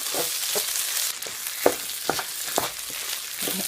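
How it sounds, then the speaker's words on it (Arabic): Seasoned turkey gizzards and hearts are stirred in a hot pot, with steady frying sizzle and a series of distinct spoon scrapes and clinks spaced across the stir. "هنحط بقى القوانص والقلوب اللي احنا عصجناها قبل كده وتبلناها، وهنقلب برضو"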